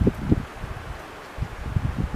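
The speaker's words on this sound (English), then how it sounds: "It's windy and it's cold" Cold, gusty mountain wind at a ski resort in La Tania, Courchevel, buffets the microphone in low rumbling bursts, rising and falling with faint rustling in between.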